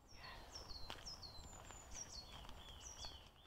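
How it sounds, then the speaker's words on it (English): Several birds sing and chirp in short, high whistled phrases in a bluebell wood in Gloucestershire, fairly faint over a soft outdoor background. "but also you just listen to the birds singing."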